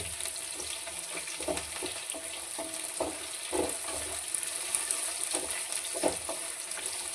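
Onions frying in a pan while puliyogare is cooked, making a quiet, steady sizzle broken by soft scraping and stirring clicks at an uneven pace.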